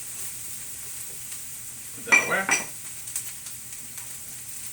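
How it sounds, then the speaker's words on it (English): A short burst of sizzling as onions hit a hot frying pan, around the middle, with a few softer crackles after and a brief spoken phrase nearby. "And you can hear it sizzle."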